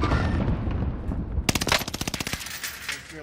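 Video game gunfire on the Caldera map: a loud, rapid automatic burst of close shots rattles out after a stretch of muffled background noise, then tapers off.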